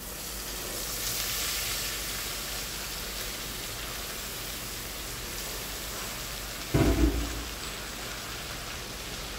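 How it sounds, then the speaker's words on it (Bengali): Poha (flattened rice) is poured into a hot pan and gives a steady rain-like sizzle and rustle. About two-thirds of the way through, a short heavy clatter stands out, and no one speaks. "এবার আমি পোহা বা চিরাটাকে ঢেলে নেব।"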